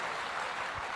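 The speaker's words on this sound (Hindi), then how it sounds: "एक बार डीजे पॉल के लिए ताली बजानी बनती है भाई लोग" A seminar audience applauds at an entrepreneurship launch event, a steady wash of clapping from many hands throughout, fairly faint and even, with no voice over it.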